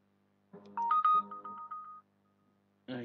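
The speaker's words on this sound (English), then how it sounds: "I keep forgetting to switch off my phone." A mobile phone sounds a short, bright electronic ringtone: a quick run of beeping tones at close range over a quiet room, then a pause and a brief burst of another sound.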